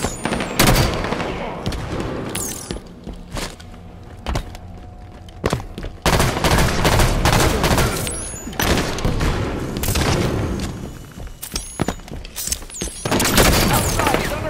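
Rapid gunfire rattles through a Halo 5: Guardians multiplayer match. Automatic bursts, heavy booms and thuds repeat in dense clusters for around fifteen seconds. Players shout callouts over the shooting.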